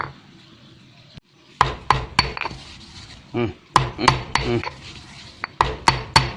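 Roasted chili paste is pounded in a mortar for a northern Thai mustard-greens dish, a series of sharp, close thuds in irregular clusters with brief pauses between them.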